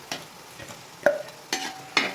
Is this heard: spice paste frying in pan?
yes